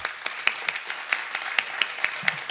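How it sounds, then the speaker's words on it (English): A conference audience gives a round of applause, a thin, moderately faint patter of claps with a few sharper individual claps standing out and no talk over it. "Big round of applause."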